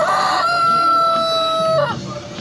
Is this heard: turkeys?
yes